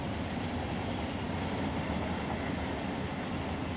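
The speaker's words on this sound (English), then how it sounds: "Oh, there goes that train that we were waiting on." A BNSF freight train rolls past on the main line in Run 8 Train Simulator, giving a steady, dense rumble with clattering wagons that holds close and loud from start to finish, with no voices over it.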